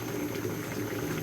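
Freshly picked taro simmering in a pot over low heat gives a steady, fairly quiet bubbling and burbling of boiling water with no pauses.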